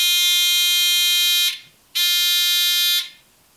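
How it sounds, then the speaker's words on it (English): A buzzer wired into a workshop dust collector's grounding system sounds twice, two loud sustained electronic drones of about one and a half seconds each with a short gap between, alone with no talk. "now with my buzzer temporarily connected here, we can see if we get a buzz."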